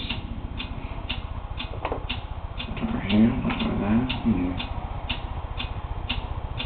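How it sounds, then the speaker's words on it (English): Steady, evenly spaced ticking from the Webkinz video game runs throughout, sitting under a person talking and a bed of game background sound. "is that mysterious ticking noise?"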